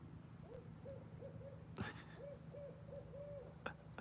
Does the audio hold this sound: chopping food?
no